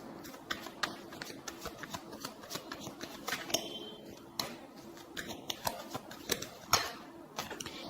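Tarot cards being handled and drawn from a deck, a steady run of soft flicking, snapping and riffling taps throughout, close up and fairly quiet with no talking.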